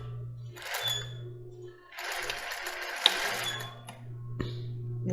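A sewing machine stitches lace for a bra in two close, whirring runs with a brief pause between them, then a short reverse backstitch buzz at the end, with no talking.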